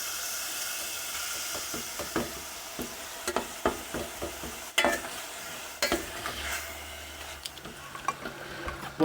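Reduced fat beef mince frying in a pan for chilli con carne, a steady close sizzle and hiss with repeated scraping and stirring clatters from a utensil, no talking.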